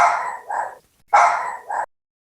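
A dog barks twice, close and loud, each bark a short doubled burst with a pause between, no talk over it.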